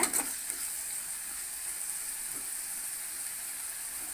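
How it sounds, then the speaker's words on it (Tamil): Mint leaves stir-fried in oil in a pan, a soft, even sizzle with a brief stir at the start, fairly quiet and without talk. "இந்த எண்ணெயிலேயே வந்து இலை வெந்துடணும். அந்த அளவுக்கு வந்து இந்த பச்சை வாசனை போகிற வரைக்கும் நல்லா கிளறி விட்டுருங்க"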